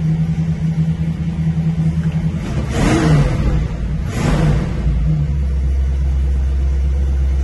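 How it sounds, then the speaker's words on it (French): A V8 car engine runs just after being started, a loud, steady low rumble that swells twice briefly as if revved, then settles back to an even idle. "Bon, le moteur tombe pas trop mal."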